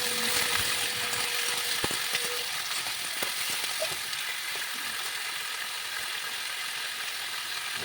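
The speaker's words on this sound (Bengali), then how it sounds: "আমি হলুদ লবণ দিয়ে এখানে ভালো করে সেটিকে ভেজে নিচ্ছি" Pointed gourd frying in a pan with turmeric and salt, a steady crackling sizzle broken by a few sharp stirring knocks, close and moderately quiet.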